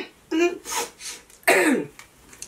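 Two rough bursts of throat clearing and coughing from someone with a lingering cold, close and fairly loud, separated by a short pause.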